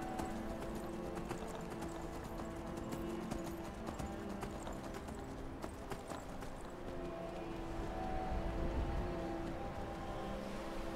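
Horse hooves clip-clopping in the video game Skyrim, a steady quiet rhythm of hoofbeats over a low droning background, faint and continuous.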